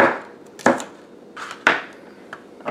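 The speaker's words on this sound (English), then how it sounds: "so I'm just going to cut them up." A knife cuts through bell peppers on a board in a few sharp, close chopping strokes with short pauses between them, and no one speaks.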